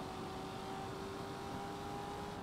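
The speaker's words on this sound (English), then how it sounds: "I'm stopping the car in the median here." Car engine in GTA V, a steady continuous drone with a constant tonal hum, no clear stop, loud and alone without talk.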